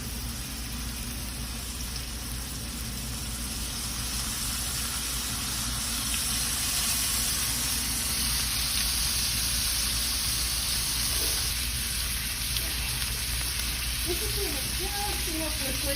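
Lime juice hits a hot pan holding seared pork tenderloin, raising a steady loud sizzle that continues throughout, with a faint voice speaking near the end.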